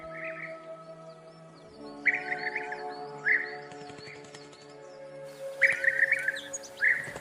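Migrating songbirds singing in a European deciduous forest: repeated bright chirping phrases arriving in bursts over a steady tonal hum, fairly close and clear, no voices.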